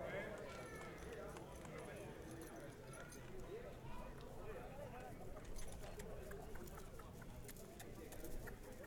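An Anglo-Arab foal trotting at a horse show, its hooves giving a quick, faint clip-clop rhythm under a murmuring crowd, birds and a distant voice.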